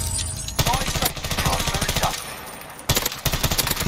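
Rapid automatic gunfire in the Call of Duty Warzone Caldera battle royale game, loud, dense bursts rattling close by with a short pause and then more sustained fire.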